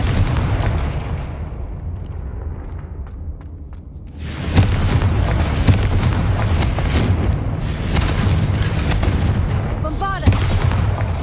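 Fiery Confringo spell explosions in the Hogwarts Legacy wizarding game, a rumbling backdrop breaking into loud repeated booming blasts and crackling bursts, with a brief rising whistle-like tone near the end.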